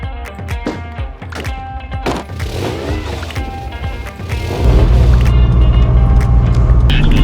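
Tires roll and a car engine drones as it drives into Pebble Beach, with gravelly road noise and clatter at first, then a steady louder engine rumble building toward the end.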